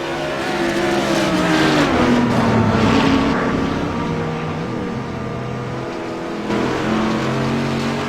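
A race car on an oval circuit accelerates past, its engine note climbing and sweeping in pitch, loud and close, then easing before surging again near the end with no talking.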